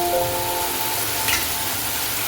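Cold-pressed groundnut oil sizzles steadily in a pan for an okra stir-fry, a loud, continuous close-up hiss and crackle with a brief tonal whine near the start.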